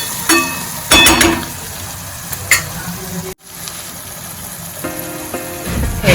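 Cooked green onion curry, a Kathiyawadi-style vegetable dish, is stirred and mixed in a pan with a spoon, giving soft sizzling scrapes and occasional clinks in short bursts, with no talking.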